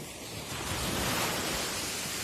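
A steady, broad wash of surf noise from the sea at night swells slightly louder midway, like waves breaking nearby in the dark, with no voices.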